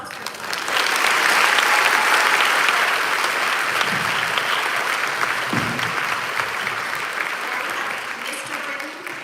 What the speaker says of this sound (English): And now another round of applause for